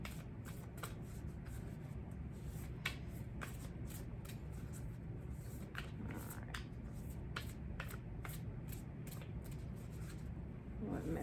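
Someone shuffles a deck of tarot-style cards by hand in a quiet room, giving repeated soft riffling bursts in an uneven rhythm, close and faint, with occasional speech.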